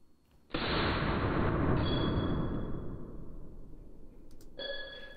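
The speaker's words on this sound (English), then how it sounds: "Shot number two." A single AR rifle gunshot fired at an outdoor range gives a sharp, loud crack followed by a few seconds of decaying echo, with a faint ringing tone afterward.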